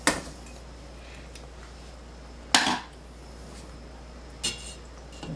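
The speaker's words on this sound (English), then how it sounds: "So now I'm adding this barley directly into the soup." Barley is tipped into a pot of mushroom soup, giving a few sharp clinks and clatters of utensil against pot, with a steady low hum underneath.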